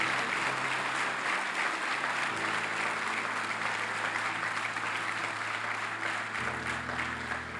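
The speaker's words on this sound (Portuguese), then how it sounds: "Se você acredita nisso, aplaude bem forte a Ele." A church congregation at a Portuguese-language congress applauds loudly, continuous dense clapping with a steady low hum of music or organ underneath.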